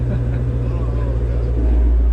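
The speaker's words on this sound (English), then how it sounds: "He's got to rev his car in the garage." Ford Mustang Shelby GT350R engine running loud in a garage, a deep steady rumble that swells slightly toward the end, with a person talking over it.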